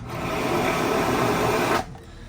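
A motorhome's central vacuum kick plate, set in a 2018 Tiffin Allegro Bus 45OPP Class A coach, roars on as a loud steady suction whoosh for nearly two seconds, then cuts off abruptly.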